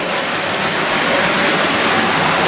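A water pump runs with a loud, steady rushing hiss of pumped water that continues without a break throughout.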